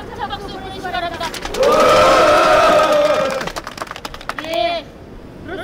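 Audience at a construction union press conference breaks into loud clapping mixed with raised, shouting voices, swelling in the middle and then tapering off, with scattered claps and a brief shout near the end.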